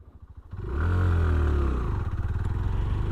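A 2025 Hero Glamour X 125 motorcycle pulling hard in second gear: after a brief idle putter, the engine revs up loudly into a rising, throbbing growl that holds near the listener, with no talk.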